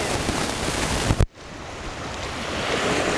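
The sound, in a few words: ocean waves crashing on shore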